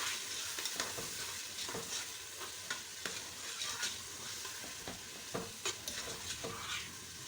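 Turmeric, biryani masala and whole spices frying in a pot for Sindhi biryani, a low steady sizzle with repeated soft spoon scrapes and taps as they are stirred, fairly faint and close.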